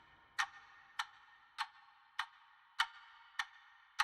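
Chopped alarm clock tick sample processed with EQ, phase wah and reverb in a hip-hop beat: seven sharp, evenly spaced ticks across four seconds, each with a short reverberant tail, alone and moderately loud.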